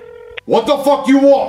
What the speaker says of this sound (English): I'm gonna call him again.